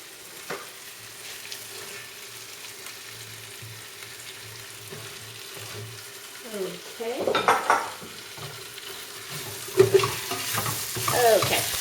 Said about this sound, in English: I'm going to let this sizzle a little bit more.